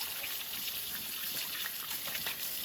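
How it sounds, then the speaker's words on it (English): Water runs steadily from a tap while hands are rinsed, a continuous close gushing and trickling flow that lasts the whole moment with no voices. "you want to rinse both hands off pretty good"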